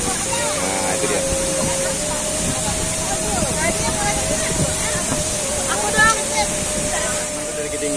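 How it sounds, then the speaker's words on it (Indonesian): A tall waterfall in West Sumatra roars as a steady, dense rush of falling water that fills the whole stretch, with faint voices half-buried beneath it. "Nah, ini air terjun sobat ya."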